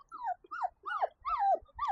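Five-week-old puppies whimper and whine outdoors on their first time outside, a run of five rising-and-falling high cries close by with short gaps between them.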